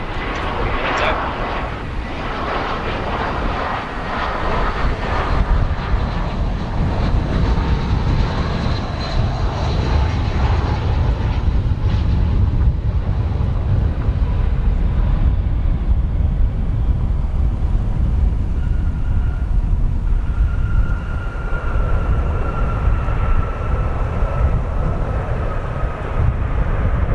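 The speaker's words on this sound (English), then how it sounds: "Strong reverse of the United Airbus A319" A United Airbus A319 touching down at Chicago O'Hare, a loud sustained jet roar of strong reverse thrust that swells, then slowly eases off as the aircraft decelerates.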